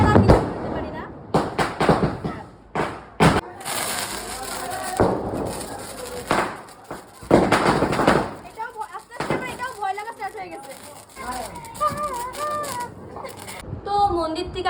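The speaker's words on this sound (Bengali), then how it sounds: "আমার একটা ফেভারিট বম জ্বলামু" Firecracker bombs set off during a Kali Puja celebration, a series of sharp, loud bangs spread through the recording, with voices talking and chatter between and over the blasts.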